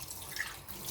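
Tap water splashing as a man rinses his face during a morning grooming routine, a soft, continuous patter and drip of running water, close and moderately quiet with no voices.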